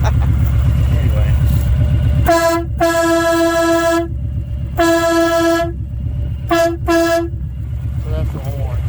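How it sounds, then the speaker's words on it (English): An air horn on a 2022 Kawasaki Voyager motorcycle is blown several times: two long, loud blasts and then two short ones, strong and near, over a steady engine rumble. "Still got my air horn."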